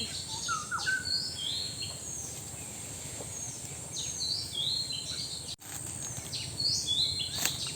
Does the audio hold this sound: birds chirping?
yes